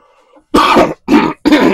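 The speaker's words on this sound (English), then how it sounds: "I'm really trying not to cough." A faint murmur, then three sharp, close throat-clearing coughs in quick succession, loud and harsh, each separated by a short pause.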